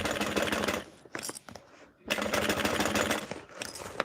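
A sewing machine stitches in rapid, dense bursts, running steadily, pausing briefly near the middle, then starting again at full speed, loud and close.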